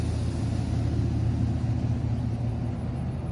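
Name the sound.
truck with loud exhaust pipes rumbling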